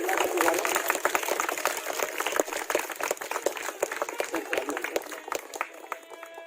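Applause from a village gathering of mothers, sisters and children greets the launch of a laptop scheme at a Diwali event, dense clapping filling the whole stretch with a steady crowd wash.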